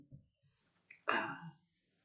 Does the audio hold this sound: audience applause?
no